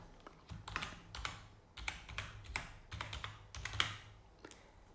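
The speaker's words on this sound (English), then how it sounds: "So hit F2 on the keyboard to rename and I'm gonna call it shockwave." Typing on a computer keyboard to rename a file, a string of quiet, close key clicks in small irregular bursts with short pauses between them, with no talking.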